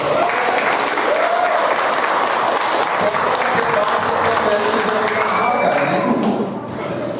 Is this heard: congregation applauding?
yes